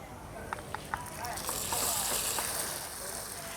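Lap cheong sausage frying in a pan with charred jarred capsicum, giving a steady soft sizzle that swells midway, with a few light clinks at the start and a voice talking over it.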